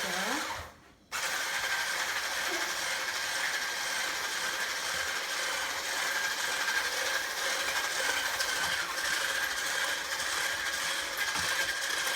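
An electric hand mixer whisks cake batter in a home kitchen, switching on after a brief pause and then whirring steadily and continuously at close range.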